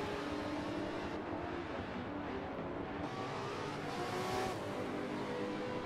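A McLaren MP4-12C race car in a racing video game, heard on board: a continuous loud engine drone that rises and falls with revs, with faint tire noise and no talking.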